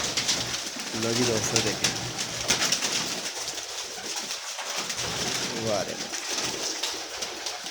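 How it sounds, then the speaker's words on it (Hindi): Domestic pigeons, male and female, coo in a couple of soft rolling bursts close by, while someone talks over them. "कबूतर ए मादी है भाई और नर से"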